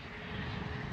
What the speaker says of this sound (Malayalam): ഇപ്പൊ വന്നത് പ്രൈവറ്റ് ജെറ്റ് ആണ്.